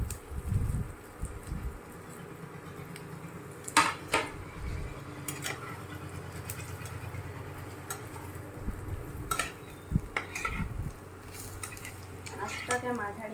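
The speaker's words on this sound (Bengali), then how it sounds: "এবার ঢ্যাঁড়সগুলো তেলের মধ্যে ছেড়ে দিচ্ছি।" Sliced okra hits hot oil in a pan over medium heat, giving a steady close sizzle broken by sharp clinks and scrapes of a utensil against the pan.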